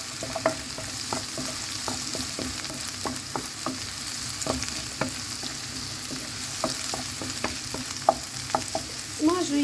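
Onions sizzling in a hot pan with a steady crackle, punctuated by repeated scraping stirs of a utensil.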